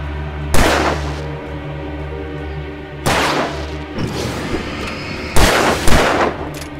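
Gunshots fire in Alan Wake Remastered: three loud, sharp blasts spaced a few seconds apart, each with a booming tail, with a couple of smaller impacts between them over a low game ambience.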